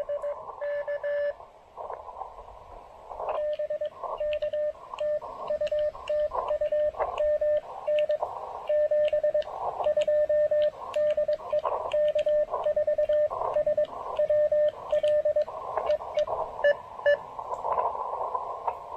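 Amateur radio signal received on an MC-750 antenna in a picnic shelter on a rainy day: steady beeping Morse-like tones over static, starting faint and growing clearly stronger and steadier, then breaking into noise at the end.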